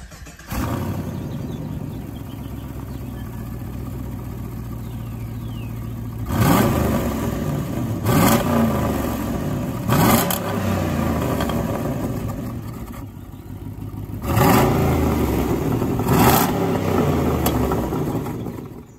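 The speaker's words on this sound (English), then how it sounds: "I'm gonna do a little cold start of the G8 since I just got the exhaust system put on it." A Pontiac G8 GT engine with a factory exhaust idles after a cold start, then revs loudly several times through the exhaust, each rev rising and falling back to a steady idle.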